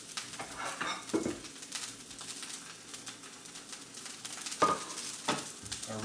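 Tuna simmering in a citrus soy glaze in a pan gives a low, steady sizzle and bubbling, with occasional soft clinks and scrapes, fairly quiet and without speech.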